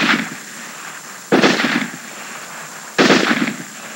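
Two separate bursts of machine gun fire ring out outdoors, each a dense rattling volley lasting about half a second, spaced well apart with quiet between.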